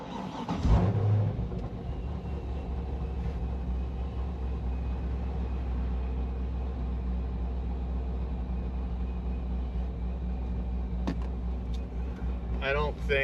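A 950-horsepower supercharged LS3 Corvette fires up and settles into a loud, steady, rumbling idle close by, with the engine droning continuously through the whole stretch.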